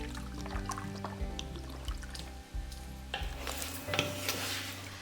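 Bacon frying in a Ninja Possible Cooker Pro, a quiet steady sizzle with occasional scraping and stirring noises, close by and without talk.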